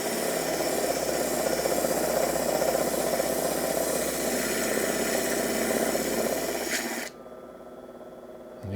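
A lapidary polishing machine works a thunder egg rock at a finer grit stage, giving a steady, fairly loud grinding hum with a faint rumble that cuts off abruptly near the end.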